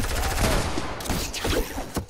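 Rapid submachine gun fire in a video game, a dense continuous burst of shots under the game mix with brief short bursts toward the end.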